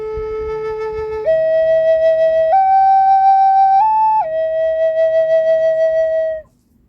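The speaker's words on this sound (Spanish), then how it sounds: "Este es el sonido de una flauta sencilla, si yo soplo solo por el agujero de la derecha." A single flute sounded through the right-hand hole of a double flute, holding a clear, steady whistling tone that steps up in pitch several times before dropping back and stopping, loud and close, with no voices.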